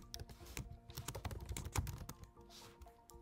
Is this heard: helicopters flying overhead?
no